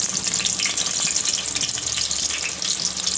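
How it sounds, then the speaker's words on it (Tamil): Onions and whole spices such as cloves tempering in hot oil for nei soru chicken gravy, giving a steady, loud, close sizzle and hiss that runs unbroken throughout with no talk. "எல்லாம் போட்டு தாளிக்கணும் ஃபஸ்ட்டு."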